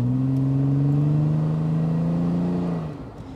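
An 1980s Pontiac Fiero GT rear-mounted engine drones steadily from inside the cabin under heavy throttle, holding a low, even tone before easing off near the end.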